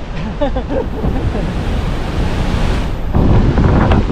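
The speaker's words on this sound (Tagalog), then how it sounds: "Lakas ng tubig, oh. Nagpapakawala yung dam" Strong river current rushes on the Pampanga River as a dam releases water, a loud, constant churning roar with a brief voice early on and a surge toward the end.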